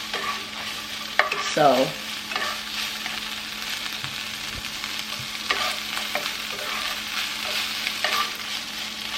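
Calalloo and saltfish being stirred in a hot pan, spiced with a whole Scotch bonnet: steady faint sizzling with intermittent scraping stir strokes, and one brief voice near the start.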